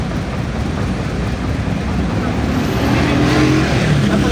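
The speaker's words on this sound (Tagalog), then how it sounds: "Kaya sobrang traffic dito ngayon." Heavy road traffic in Quezon City during a major fire with Roosevelt closed, a loud continuous rumble of engines and passing vehicles that builds slightly toward the end, with no clear voices.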